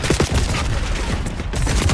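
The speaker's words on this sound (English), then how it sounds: "I spawned with an enemy standing to the left of me shooting into my fucking body" Rapid enemy gunfire in Call of Duty: Black Ops 6, a loud, close, unbroken rattle of shots with no talking over it.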